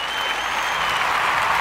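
Audience applause, a dense, even wash of clapping that holds at a steady loudness throughout.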